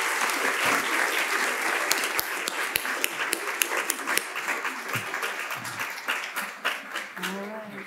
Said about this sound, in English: Let's give these children a round of applause as we welcome them up to the front here